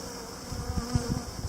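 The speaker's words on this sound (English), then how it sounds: "now we're going to dump the rest of the bees into the box" Honey bees from a 3-lb package being installed into a hive box, a dense, steady buzzing drone close to the microphone with faint bumps and handling sounds, no talk.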